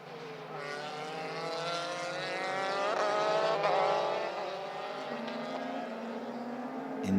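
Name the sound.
Euroformula Open race cars at Circuit de Barcelona-Catalunya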